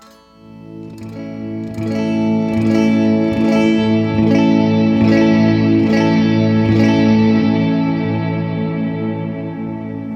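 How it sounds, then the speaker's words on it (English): Electric guitar run through an Encounter ambient delay and reverb pedal set to maximum attack: repeated plucked notes fade in slowly, building into a dense, loud, sustained wash of reverb and echoes with no voice. "So you can hear it took a lot more playing for it to sort of reach the peak of its envelope."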